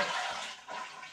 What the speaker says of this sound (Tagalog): Tapos, flush natin.